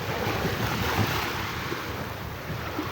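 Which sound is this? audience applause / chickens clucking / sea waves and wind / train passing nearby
sea waves and wind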